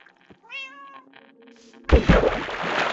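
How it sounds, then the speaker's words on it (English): Cats meow in Minecraft: several drawn-out, rising-and-falling game meows sound close and clear over quiet, then give way to a loud, dense burst of noisy game sound that fills the rest. "I'll probably breed more cats later."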